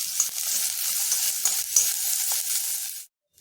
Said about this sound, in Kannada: ಇವಾಗ ಕ್ಯಾರೆಟು ಮತ್ತು ಕ್ಯಾಪ್ಸಿಕಮ್ ಹಾಕ್ಕೊಳ್ತಾ ಇದ್ದೀನಿ